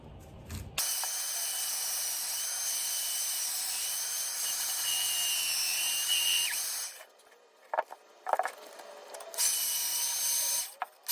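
A power drill runs close and loud in long, steady high-pitched whirring bursts, starting and stopping several times with short pauses and brief revving between runs.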